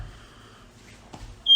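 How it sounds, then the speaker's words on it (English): A home alarm gives one sharp, loud electronic beep right at the end, after quiet kitchen rustling while challah is being shaped. "And my alarm went off."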